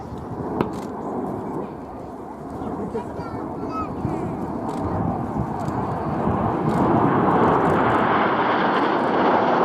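RAF Red Arrows jets perform a flying display at an air show, a loud continuous jet engine roar that swells as the aircraft turn overhead, with a commentator talking over it.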